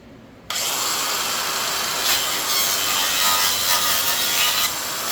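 A slow battery-powered angle grinder fitted with a cheap chainsaw-chain wheel cuts into wood, starting abruptly and running as a loud, steady, rasping saw-like roar for several seconds.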